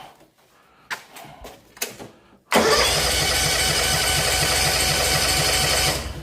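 A small 32-inch lawn mower engine: a few short cranking pulls, then the engine fires and runs at a loud, steady drone for several seconds before cutting off.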